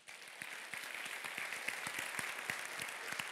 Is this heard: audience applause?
yes